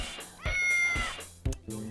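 Pet cats howl and meow at close range, one long drawn-out yowl followed by shorter cries, loud against a quiet room.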